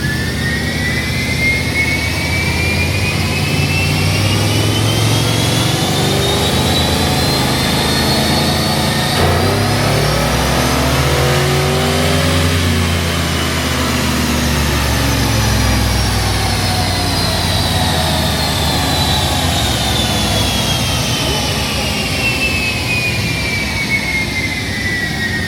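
C10 pickup truck engine roaring through a full dyno pull, loud and continuous, its pitch climbing steadily, dipping mid-run and rising again, with a high whine sweeping up and down over the heavy exhaust drone.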